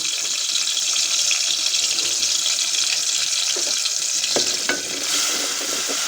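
Onion, ginger and garlic paste being stirred in a pan for a homemade spinach soup, giving a steady close sizzle with soft scraping strokes near the end and no talking.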